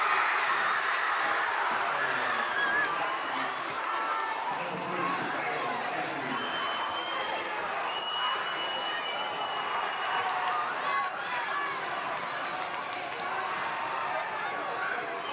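A nervous crowd murmurs steadily through a Skyridge at Lehi boys high school basketball game in a gym, a dense, continuous chatter with occasional shouts while a commentator talks over it.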